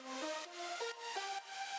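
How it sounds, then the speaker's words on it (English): Synth backing of a plucked synth and wide saw pads with the lead removed, a few sustained chord tones shifting in pitch with soft rhythmic dips, quiet and brief. "A little pluck in there, some like saws just to make it wider"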